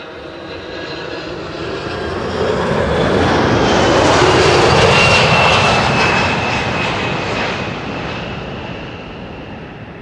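A Boeing 767 freighter arriving at Schiphol on runway Kaagbaan 06, its loud jet roar swelling steadily to a peak mid-pass and then slowly fading, heard alone with no voices.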